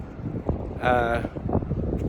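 Wind buffeting a microphone outdoors, a steady low rumble with gusts and rustling, rising louder briefly in the middle.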